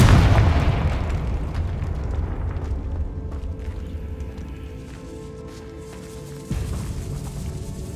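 A loud explosive boom from the Confringo blast spell in Hogwarts Legacy, set in a decaying catacomb, opens with a heavy burst and rolls into a long low rumble, with a second thump near the end.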